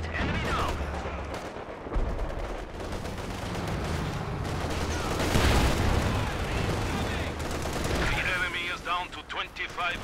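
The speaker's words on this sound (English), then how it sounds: "So calling in the artillery." Artillery barrage and small-arms fire in a Company of Heroes 2 multiplayer battle, a dense, continuous mix of gunfire, rattling bursts and booms that carries through the whole stretch, with speech mixed in.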